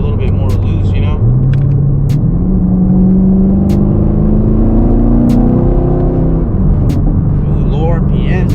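A car running on E85 fuel, its engine climbing steadily in revs from low RPM as it accelerates, a loud, continuous rising drone from inside the cabin, with someone talking over it.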